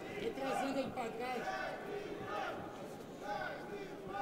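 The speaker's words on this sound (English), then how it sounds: "You can hear some Danilo Danilo shouts from the crowd." Spectators at an OPEN FC 16 MMA contender bout between Nelson Gomez and Danil Vaganov shout and chant for the fighter, a busy murmur of crowd voices rising in rhythmic yells, moderately distant and fairly quiet.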